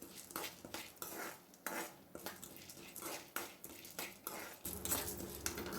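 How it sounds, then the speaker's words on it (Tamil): Dry lentils roast in a pan for idli podi, stirred with a utensil that makes a steady run of quiet scraping and rattling sounds, close by and without speech. "எல்லா பருப்பும் ஒரே மாதிரி வறுத்துருக்கணும்"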